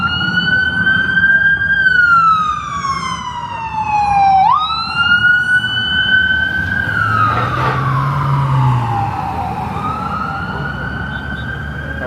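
A loud, close emergency siren from an ambulance heading toward a fire truck on a Toronto street, its pitch sweeping up and down in long wails over traffic rumble.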